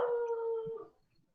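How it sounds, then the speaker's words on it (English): A single dog howl rises close and clear, holding a steady wavering tone for about a second before fading into near silence. "Dog."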